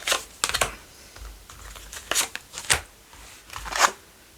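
Oracle cards being shuffled, handled and laid over one another on a table, a series of short, soft papery slides and taps in quick clusters, close and fairly quiet with no talking.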